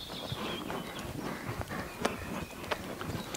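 Horse hooves thud on soft ground in a steady rhythmic trot, moderately close, with faint background ambience and no talking.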